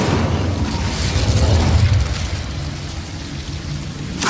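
An Incendio fire spell cast in Hogwarts Legacy on PS5, a deep rumbling whoosh of flame that swells loudly for about two seconds, then settles into a softer crackling roar with a faint pop at the end.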